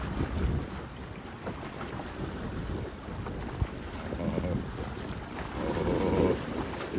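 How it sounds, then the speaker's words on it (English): Waves wash and slosh against a floating dock outdoors, with steady wind buffeting the microphone and a few louder surges near the end, sounding close and continuous. "Wait, waves. We got waves."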